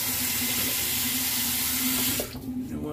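A bathroom tap runs in a steady, close rush of water for rinsing off after shaving, then cuts off abruptly near the end.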